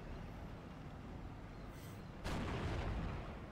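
A single tank gun shot in the WWII strategy game Steel Division: Normandy 44, a sudden heavy boom that breaks into a sustained rumbling roar over faint background ambience.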